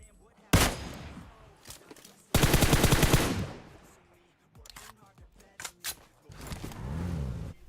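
Video game gunfire from a sniping match with a Kar98k: a sharp single shot, then a dense rapid burst of automatic fire, scattered pops and a low rumble later, close and loud.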